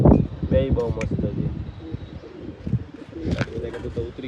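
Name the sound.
pigeons cooing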